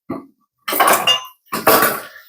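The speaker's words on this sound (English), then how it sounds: "Get my trusty tongs." Kitchen tongs clatter against a pan while handling vegetables, with three short bursts of metallic clanking and scraping, close and fairly loud, separated by brief silences.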